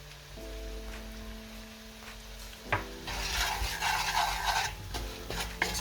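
Beans and sausage stew with flour being stirred in a pot, a steady soft scraping and swishing that grows busier after a sharp knock, with a low hum and tonal background music running underneath.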